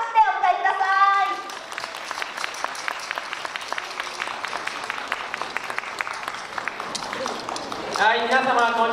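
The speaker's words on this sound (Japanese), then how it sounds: "大きな拍手でお迎えください。" Crowd applause greets a yosakoi dance team at the Daito Yosakoi festival, with steady clapping framed by a speaking voice at the start and end.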